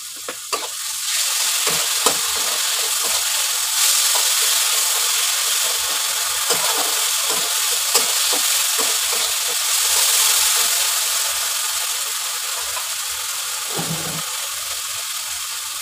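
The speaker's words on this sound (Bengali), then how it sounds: "পেঁয়াজগুলো খুব বেশি ভাজবো না, হালকা ভেজে এর মধ্যে দিয়ে দেবো বেটে রাখা আদা রসুন পেস্ট।" Onions frying lightly in a pan, a continuous loud sizzle with repeated scraping and tapping of a spatula stirring, close and steady throughout.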